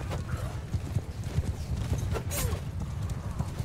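Horse archers' hooves gallop in a strategy video game, a dense, continuous clip-clop of many horses with a brief whinny, under excited talk.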